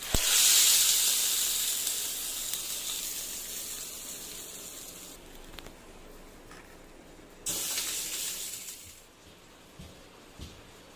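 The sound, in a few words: hot tempering poured over chutney, sizzling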